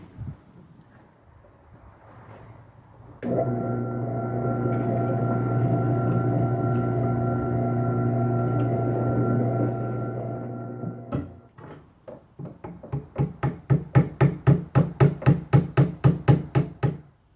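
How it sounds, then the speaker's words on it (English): A power drill whirs steadily for several seconds, drilling holes in knife handle scales, stops, then a series of quick rhythmic scraping strokes follows, close and fairly loud. "we'll pop those last few holes and get the scales ready"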